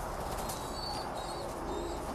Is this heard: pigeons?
yes